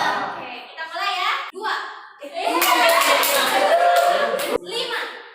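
Children in a group counseling session clapping their hands during a counting game, short bursts of claps mixed with young voices calling out, louder and denser in the middle, with a few sharp separate claps.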